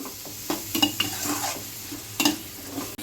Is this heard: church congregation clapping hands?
no